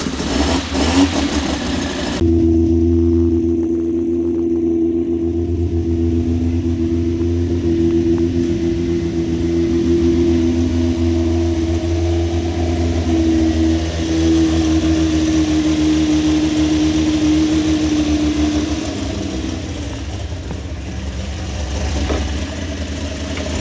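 A 1JZ engine in a sleeper van revs up and runs rough, a loud, steady, uneven drone holding for most of the stretch with a brief quick blip at the start and a dip near the end.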